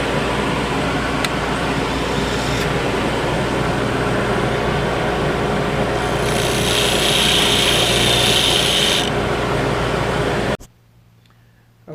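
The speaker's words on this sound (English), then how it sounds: "back to the disc sander. I'm just going to touch it to level out these mahogany segments." A disc sander whirs steadily as mahogany bowl segments are pressed against it for levelling, the loud motor drone brightening into a harsher grinding hiss midway before it shuts off abruptly, leaving near silence.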